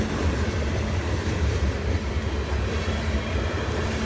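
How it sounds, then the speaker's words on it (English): An iron ore train of Bessemer hopper cars led by SD70 locomotives rolls past, a loud, steady low rumble of wheels and cars with no break, heard close by. "SD70s, leading an iron ore train, as only 2 remain on the property"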